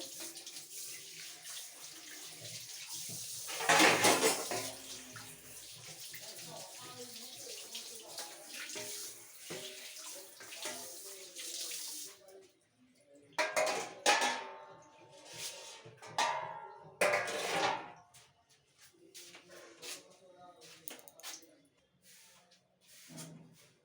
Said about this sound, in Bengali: তো আমি এখন বাসন মাজার কাজ চলছে।